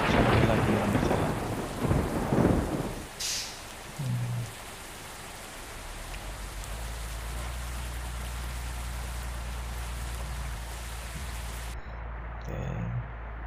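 Rain and thunder in a bus simulator game set around Palembang's Ampera Bridge: two loud thunder crashes open, then steady rain patters on a surface under a low engine-like rumble, with a faint roll returning near the end.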